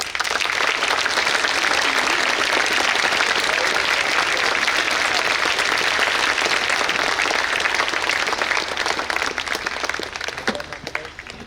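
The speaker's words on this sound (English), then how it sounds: "Let us collectively give a huge round of applause for all our teachers." A school audience at a valedictory function applauds its teachers with dense, sustained clapping that fills the hall, then thins and fades out near the end.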